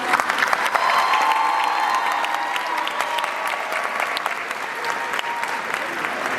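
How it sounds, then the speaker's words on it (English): A large crowd at a 2024 Maine East High School graduation ceremony applauds honor society students with steady, dense clapping that runs throughout, fading slightly toward the end, with a few scattered whoops mixed in. "One more round of applause for our NHS."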